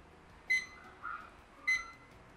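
A DS-3810L LED clock gives two short, clear electronic beeps about a second apart as its button is held, faint and alone in a quiet room.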